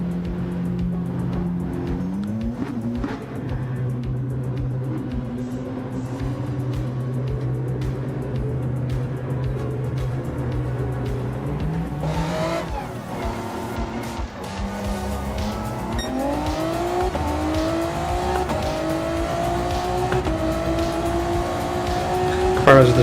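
A race truck in a GTRC Super GT Challenge racing video game revs hard, its engine pitch climbing through gears with sustained high-rpm whine and brief tire squeal, while a person talks over it.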